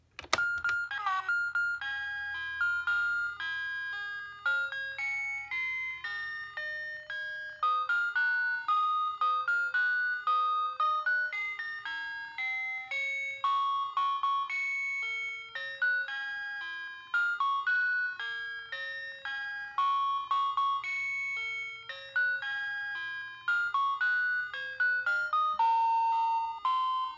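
A Littlest Pet Shop toy crib playing its electronic sound effects: a tinny, bell-like melody of plinking notes runs steadily, near and moderately loud, with no talking.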